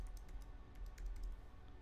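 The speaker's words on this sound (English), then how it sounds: "we're going to type in admin" Keys on a computer keyboard are tapped in a quick run of light clicks as a password is typed, faint and close, with no voices.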